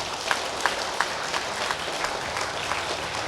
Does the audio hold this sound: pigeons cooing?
no